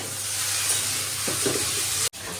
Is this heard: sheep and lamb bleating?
no